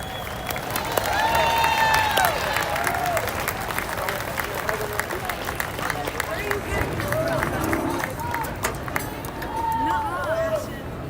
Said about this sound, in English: how about a fine round of applause for the nearly 600 musicians and auxiliary groups